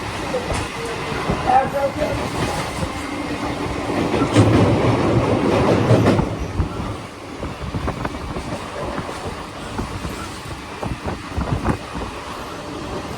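A train rumbles and rattles steadily along the tracks in the rain, close by and fairly loud, with faint voices in the background.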